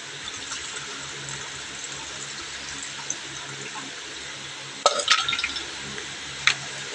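Ingredients are washed in water before cooking, with a steady background of running and sloshing water and a few sharp clinks of a container near the end.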